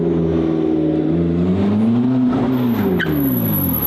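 A McLaren MP4-12C sports car revs loud and close, its engine note climbing and falling in sustained harmonic sweeps with a brief high squeal near the end.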